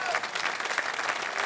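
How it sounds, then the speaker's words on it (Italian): Brief applause from an outdoor audience at a live show in Piazza Manzoni, Jesolo, a fairly faint but steady patter of many clapping hands with a voice faintly over it. "facciamogli ancora un applauso"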